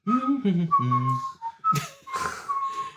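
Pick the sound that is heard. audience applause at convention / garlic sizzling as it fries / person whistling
person whistling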